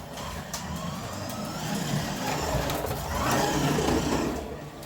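Carrera 1:24 scale BMW M4 slot car running on its track on a smaller power supply, a steady whirring electric motor hum that swells and fades as the car laps, fairly close and continuous.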